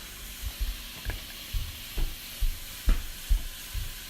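Red pepper flakes roasting in a pan, a faint sizzle broken by about nine regular scraping stirs of a spoon against the pan, with no voices.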